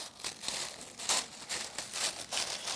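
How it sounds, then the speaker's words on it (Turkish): Several short, crisp snips of scissors cutting paper, fairly close, in an uneven rhythm with brief pauses between cuts. "senin makasın daha iyiyse ben ondan keseyim"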